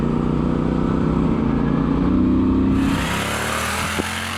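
A Triumph Scrambler 1200 XE motorcycle engine revs hard and climbs in pitch, loud and close, then drops off as the throttle eases.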